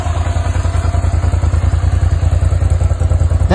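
A Suzuki SV650 motorcycle with its stock exhaust idles steadily close by, a continuous low, lumpy throb with a mechanical clatter on top.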